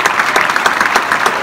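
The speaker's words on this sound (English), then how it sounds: "I think you guys need a round of applause just for being great kids." A short burst of close, lively clapping from a gathering at a high school basketball team send-off, brisk uneven hand claps with no talk over them.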